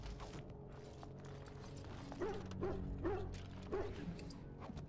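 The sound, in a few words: dog barking in Dragon Age Origins video game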